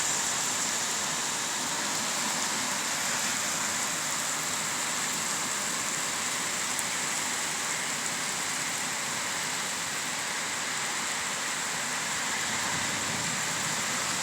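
A heavy summer rain downpour falls steadily, a dense and even hiss that stays constant and fairly loud from start to finish.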